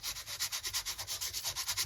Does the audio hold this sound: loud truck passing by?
no